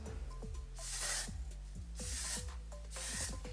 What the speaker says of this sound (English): So I just kind of lift it and spray underneath first.